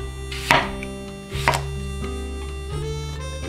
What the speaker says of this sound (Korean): 큼지막하게 썰어 준비합니다.